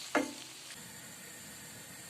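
Beef sizzling in a pot while frying for Turkish kavurma, a soft steady crackle after a brief clatter at the start, quiet and close.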